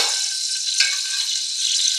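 Raw peanuts spluttering and crackling as they fry in hot oil, a steady close sizzle with small pops throughout and a brighter burst partway through, no talking.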